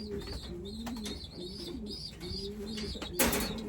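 Several pigeons, breeders and young birds in a loft, coo in rhythmic rising and falling phrases, close and fairly faint, with a brief flutter or rustle near the end and no talk.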